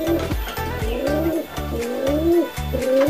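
Young pigeons cooing close by, a series of deep rolling coos repeating in rhythmic bursts, loud and clear with no voices.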